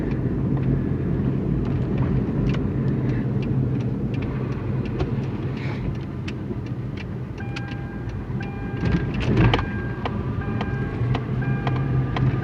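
Car manual gearbox with a clutch problem, giving a steady mechanical drone and whine that holds throughout with a slight swell near the end, no talking.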